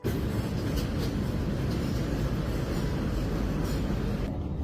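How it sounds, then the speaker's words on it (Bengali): Tungipara Express passenger train arriving at a station in Bangladesh, a steady, loud broadband rumble of rolling wheels and carriages that holds throughout without voices. "তারপর কিছুক্ষণ পরে চলে আসলো আমাদের ট্রেন টঙ্গীপাড়া এক্সপ্রেস।"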